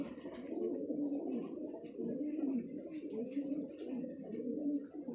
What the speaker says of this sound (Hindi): ये हमारे 40 वाले कबूतर कहलाते हैं कराची में